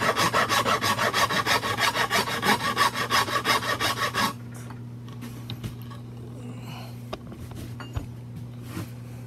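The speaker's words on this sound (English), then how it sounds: "Now we're going to take a file, which is a rasp. This one's got teeth on it" Wood rasp shaping the handle of a wooden tool tray, loud rhythmic back-and-forth strokes for about four seconds, then scattered light scraping and handling noises.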